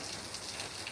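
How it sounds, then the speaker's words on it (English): Heavy morning rain pours down in Jamaica, a steady, even hiss of falling water heard faintly and alone, with no voices. "And it is raining cats and dogs."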